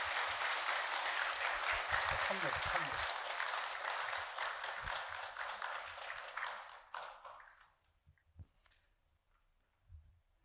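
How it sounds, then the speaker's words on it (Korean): Congregation applause at a church dedication ceremony and plaque presentation: loud, dense clapping from a crowd that holds steady for about seven seconds, then tapers off to a few scattered claps and quiet room noise. "여러분 큰 박수 부탁드리겠습니다"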